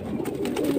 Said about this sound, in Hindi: बहुत ही प्यारे कबूतर है